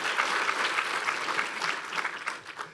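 A short burst of audience applause for a student writer at a school writing celebration, brisk scattered clapping from a modest crowd that thins out after a few seconds.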